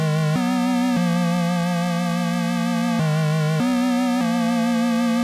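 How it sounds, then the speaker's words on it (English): Fat, sustained synth bass from a Repro 5 preset called CK Fat Fingers, playing held notes with a few pitch changes, loud and alone with no talking. "Adding in another bass preset from Repro 5. This is the CK Fat Fingers bass preset."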